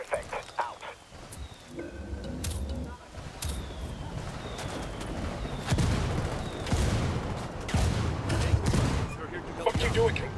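An artillery barrage in the video game Ghost Recon Wildlands, a rolling series of heavy booms and blasts that builds in loudness, mixed with rumbling and sharp cracks.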